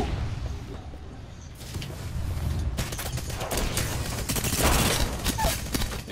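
Gunfire in the Apex Legends video game: rapid fusillades of shots crackle in dense bursts, building in intensity toward the end, loud and close with no clear talk over it.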